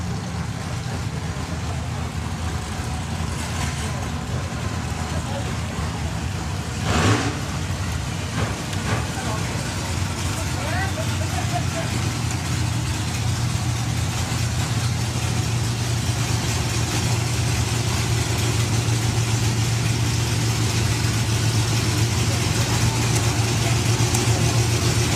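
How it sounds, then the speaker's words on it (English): A slingshot dragster at a hot rod drag strip idles with a steady low engine drone throughout, with a short louder burst midway. A commentator talks over it. "Going alongside Wayne Colliver with the Misfit Slingshot"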